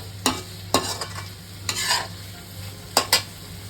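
Onion sautéing in a pan for Bengali prawn malai curry, a soft background sizzle broken by a handful of sharp, close scraping stirs at irregular intervals, with no talking.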